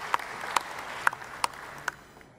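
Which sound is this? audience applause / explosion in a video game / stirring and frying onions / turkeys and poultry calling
audience applause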